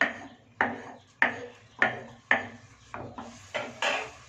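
Ragi kali, a finger millet dough, stirred in a pot with a ladle, giving close, sharp knocks and scrapes that repeat roughly twice a second, then quicker, softer ones, with no talking.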